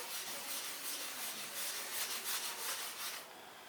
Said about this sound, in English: Using a rag, you kind of rub it into the grain of the wood, so it gets a little bit deeper into it.